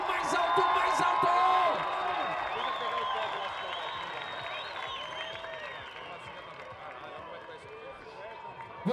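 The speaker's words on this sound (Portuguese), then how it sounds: "Pode aplaudir porque eles merecem." A large crowd cheers and applauds riders of a Brazilian SBK superbike race on the podium at Interlagos, with a dense, steady roar of clapping and crowd noise that runs loud and unbroken under talk.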